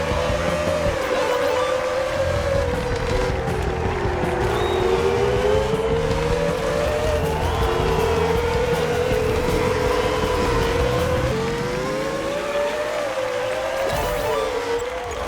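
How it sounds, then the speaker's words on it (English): A steady, high-pitched Formula 1 racing engine in a video game drones continuously, its pitch wavering up and down as gears shift, with no talking. "the F1 engine noises are just subpar in this game"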